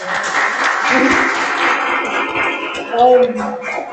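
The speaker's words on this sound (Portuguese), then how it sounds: "eu gostaria de pedir a vocês uma salva de palmas, né?" An audience claps after a jewelry-sector stakeholder talk in a university gemology course, a busy patter of hands that runs throughout with voices speaking over it.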